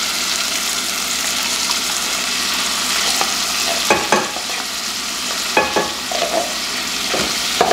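Chili beans with taco seasoning sizzle steadily in a pan, with a spoon scraping and stirring through them in intermittent clatters over the constant frying hiss.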